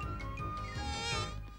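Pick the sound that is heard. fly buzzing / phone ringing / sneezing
fly buzzing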